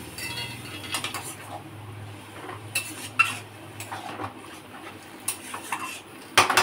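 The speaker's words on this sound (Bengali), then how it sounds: "এবার এটা একটু নাড়াচাড়া করে নেব।" A spoon stirs ginger in a pot of hot water, with scattered metallic clinks and scrapes against the pot, fairly quiet and irregular, with no talking.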